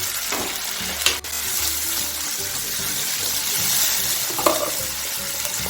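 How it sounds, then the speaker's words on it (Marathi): Tomato and onion puree with ginger-garlic paste sautés in a pan for chole, a loud continuous close sizzle with occasional stirring clinks and scrapes, no voices. "2 मिनिट परतून घ्यायचं आहे"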